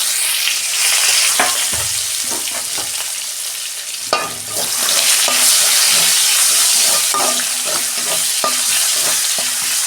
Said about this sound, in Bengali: আমি পেঁয়াজ দিচ্ছি অল্প।